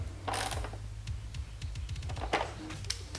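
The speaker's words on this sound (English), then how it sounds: "I'm going to tighten down the mount to the subframe." A ratchet tightens a turn signal mount onto the subframe of a 2007–2012 Honda CBR600RR, clicking in quick bursts of rapid pawl ticks over a low hum, with a few metallic taps.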